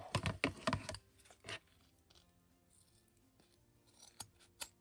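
Fabric tape being snipped with scissors, a cluster of quick sharp cutting clicks near the start, then one more snip, followed by quiet handling and a few faint taps.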